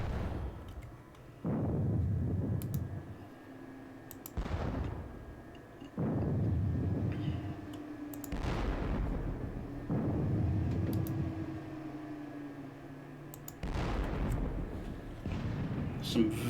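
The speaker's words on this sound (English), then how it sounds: "Some very long-range gunfire," Long-range artillery gunfire in a Napoleonic war video game: several deep booming blasts, about five in sixteen seconds, each with a rumbling decay, heard over a steady low background with faint tonal hum.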